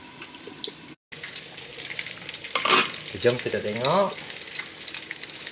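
Steady oil sizzling from spiced chicken frying in a covered pan over medium heat, with stirring and brief splashy bursts, close up. A voice speaks briefly.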